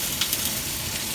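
Steak sears in a hot pan with a dense, continuous sizzle and a few soft crackles, close and steady throughout, with no voices.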